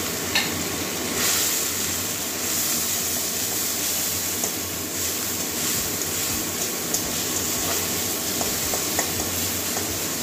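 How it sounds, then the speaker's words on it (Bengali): Onion paste and three green chillies frying in oil left over from frying fish, with a steady close sizzle and occasional stirring scrapes throughout, no voices. "পেঁয়াজটা একটু ভেজে নেবো, পেঁয়াজ কাঁচা রঙ যাওয়া পর্যন্ত।"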